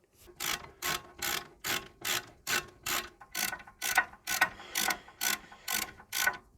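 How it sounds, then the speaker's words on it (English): Socket wrench with a 17mm socket ratcheting bolts snug on a Toyota Land Cruiser swivel hub, about a dozen even back-and-forth clicking strokes in a steady rhythm, close and fairly quiet. "Then we can take the 17mm socket on the socket wrench just to snug those down."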